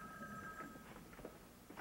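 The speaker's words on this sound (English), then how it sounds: "hey, the phone's ringing" A telephone rings indoors in a 1983 soap opera scene, a faint, brief electronic bell trill heard alone against low room noise.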